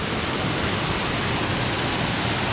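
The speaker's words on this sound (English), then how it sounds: "you probably can hardly hear me from the roar of the Cascade Stream" A steady, loud roar of rushing water from the Cascade Stream tumbling through a rocky gorge near Rangeley, Maine, with no other sounds standing out.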